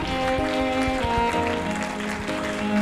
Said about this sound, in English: Please keep clapping. Keep clapping, please.